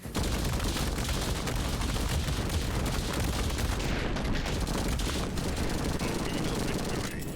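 Dense, continuous automatic gunfire from an assault rifle and other weapons in the video game Madness: Project Nexus, loud and unbroken for several seconds with heavy overlapping shots.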